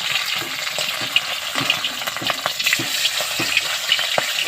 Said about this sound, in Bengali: দেখো কড়াইতে তেল দিয়ে দিয়েছি, এবার আমি মাছের মাথাটাকে ভেজে নেব।